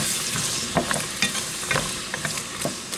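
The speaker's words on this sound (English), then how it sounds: "and the carrots and onions. And we'll let these cook for about 5 to 7 minutes." Carrots and onions for beef stew cook in a pot with a constant sizzle, broken by repeated scraping and knocking as a spoon stirs them, close and fairly loud, no speech.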